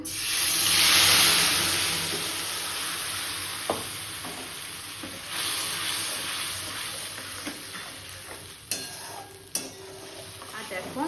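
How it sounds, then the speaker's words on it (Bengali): A spice paste with Kashmiri red chilli powder, salt and a little sugar fries in hot oil, a loud initial hiss easing into steady sizzling with occasional spoon scrapes and taps, no talk. "এবার দিয়ে দেবো মশলাটাকে"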